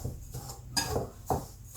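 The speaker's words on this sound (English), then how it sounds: "you're just going to grab your whisk, and whisk until well combined" Whisk scraping and clinking around a bowl of dry ingredients for gluten free ANZAC biscuits, a few quick, close strokes with sharp taps against the bowl.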